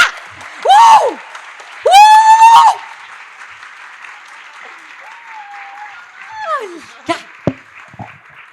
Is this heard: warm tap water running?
no